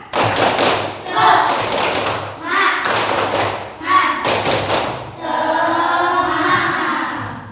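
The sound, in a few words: students doing the rhythmic 'tepuk semangat' spirit clap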